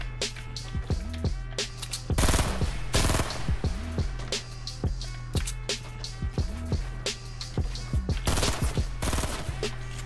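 Fortnite Battle Royale gunfire: rapid volleys of shots with sharp, close reports play over steady tonal game music, with a heavier burst partway through and more shots near the end.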